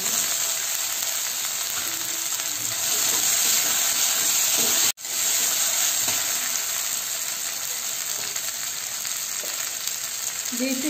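Chopped tomatoes frying in a pan over onions and ginger garlic paste give a steady, nearby sizzle with light stirring, broken by one brief cut midway.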